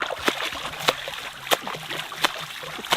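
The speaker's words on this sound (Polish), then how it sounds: "Jeszcze masz się pluskać, słyszysz?" A person splashes in cold water nearby, sloshing with a few sharper splashes at irregular intervals over a steady watery background.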